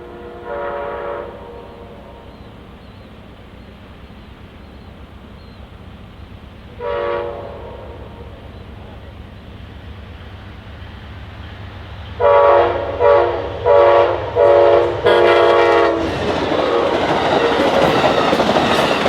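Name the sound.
passenger train passing with horn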